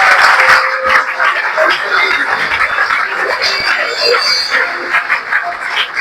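A crowd at a graduation ceremony applauds with dense, continuous clapping that stays loud and steady, with a few voices mixed in.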